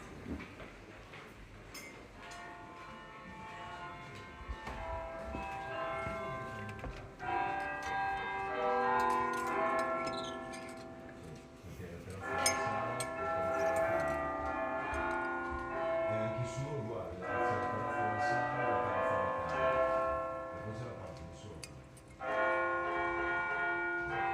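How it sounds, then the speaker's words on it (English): Church bells ring in a continuous peal with overlapping strikes, heard from some distance, with faint background noise and a few soft voices. "I heard the bells as she stood there"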